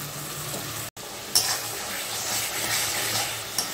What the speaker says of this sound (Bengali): ভালো করে মশলাটা মিশিয়ে নেব আর কষতে থাকব।